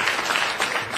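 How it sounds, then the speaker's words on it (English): Audience applause at a football awards ceremony, a brief, dense burst of clapping from a crowd, moderately loud and continuous throughout. "Give him a big round of applause."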